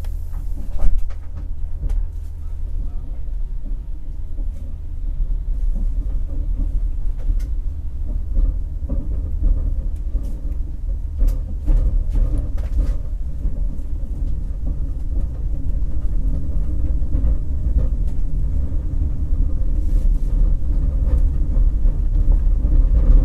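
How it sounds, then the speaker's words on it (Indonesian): Thaksinara night train to Bangkok departing, heard as a steady low rumble of rolling stock with faint clicks and rattles that grow slightly louder toward the end, with no voices. "Ini kereta yang saya naiki menuju ke Bangkok sudah diberangkatkan dari pemberangkatan awalnya"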